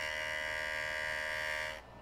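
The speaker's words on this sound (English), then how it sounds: "I should put the vacuum on." A vacuum runs beside a JOOLTOOL gem-polishing machine, giving a steady, close, tonal whine and hum that stops abruptly near the end, leaving a quiet background.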